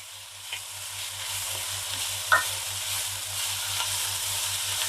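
Tender tamarind leaves and drumstick leaves fry in a pan over a medium flame, giving a steady, soft sizzle with faint stirring clicks and a low background hum.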